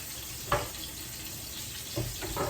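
Pork pieces being browned and flipped in a hot pan give a continuous close sizzle, with a couple of brief louder sputters as pieces turn, and no one talking.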